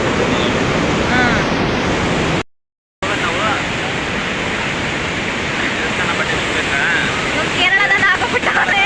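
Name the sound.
water rushing at Aruvikkara dam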